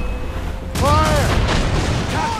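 Ship cannon fire in the Assassin's Creed Rogue opening naval battle: a sudden loud booming volley with rumbling, crackling impacts amid battle noise.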